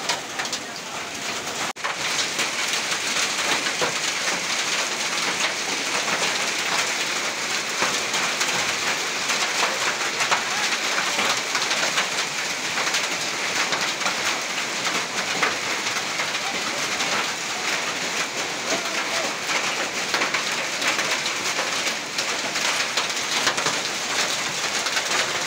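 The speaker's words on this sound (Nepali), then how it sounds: "आज सबैले असिना पानी परेको हेरिरहेको छ।" Hail and rain falling together in Gate Kusumba, Nepal, a steady dense patter and hiss that stays loud and unbroken for the whole stretch, with no voices standing out.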